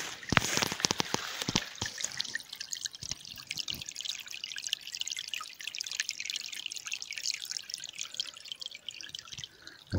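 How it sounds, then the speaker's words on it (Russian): A small brook trickles and babbles steadily in a quiet spot, with close dripping and splashing water throughout. "Слышно только ручей."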